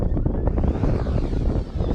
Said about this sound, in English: It's a little windy today guys.